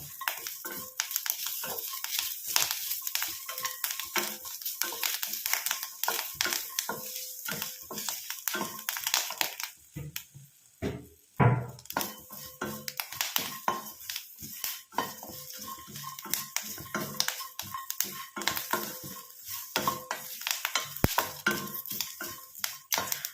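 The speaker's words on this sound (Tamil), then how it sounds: "ஆனால் தேங்காய் வந்து நல்லா கருன்னு வர வரைக்கும் நம்ம இதை வந்து கரிச்சு எடுத்துக்கணும்" Curry leaves and grated coconut fry in a pan as a spoon stirs them steadily, producing a long run of close scraping and clinking strokes over a light sizzle, with a brief pause midway and no talking.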